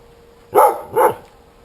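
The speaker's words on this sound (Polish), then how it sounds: "Jakiś pies tu nas obszczekuje." A dog barks twice at people approaching a closed forest area near Hajnówka, two loud, sharp barks about half a second apart, fairly close, with no talk over them.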